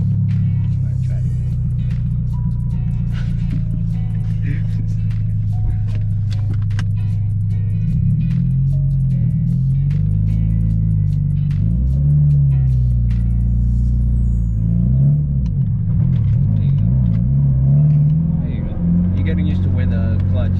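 Car engine idling low and steady as a learner eases out a manual racing clutch, the rumble wavering and rising slightly as it engages, with people talking over it throughout.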